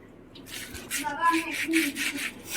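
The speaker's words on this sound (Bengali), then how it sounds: "মাছগুলো নেব আর একটুখানি হালকা হাতে ঘষে নেব" Small chapila fish rubbed by hand inside a plastic bag to strip their scales, giving a steady run of rustling, scraping bursts at close range with a faint voice underneath.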